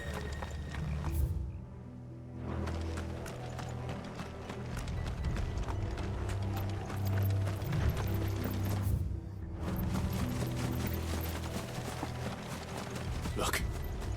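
Horse hooves clip-clop steadily through a Final Fantasy XVI game scene, a continuous rhythmic trot mixed with ambient rumble and other game sounds at moderate level.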